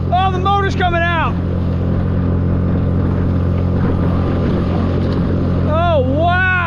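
A fast outboard motor drives a plastic jon boat across the water, its steady, loud drone and wind rush running beneath excited shouts and whoops.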